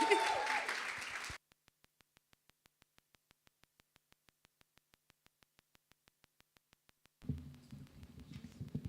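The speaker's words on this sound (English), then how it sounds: "A round of applause." An audience at a women in business seminar applauds in a brief, dense burst that cuts off abruptly, followed by near-silence with faint regular ticking, then low murmuring room noise.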